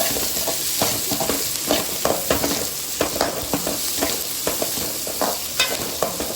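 Chopped onions sautéing in a hot pan with a little rock salt, a constant frying sizzle broken by frequent rhythmic scrapes and taps of a spatula being stirred through, close up and fairly loud.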